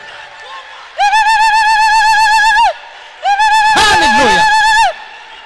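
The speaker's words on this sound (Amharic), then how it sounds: "ለጌታ ከፍ ያለ ለልታና ጭብጨባ አምጡ" A church congregation ululates in two long, loud, wavering high trills separated by a short pause, with a burst of clapping and crowd noise during the second trill.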